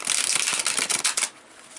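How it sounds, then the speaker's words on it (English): A tarot card deck is shuffled up close in bright, rapid riffling bursts that stop near the end, leaving a quiet pause. "I'm going to use the Enchanted Tarot here. It takes me a bit to shuffle it."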